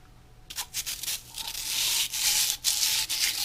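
Medium-grit sandpaper rubbed against a sticky lid, with close scratchy strokes that start in short bursts and then run into a steady, continuous sanding rasp.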